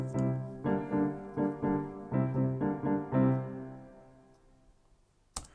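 A piano plays a short run of chords through LA Piano Hall reverb and delay, each chord fading into a soft lingering tail, then a single sharp click after a quiet pause.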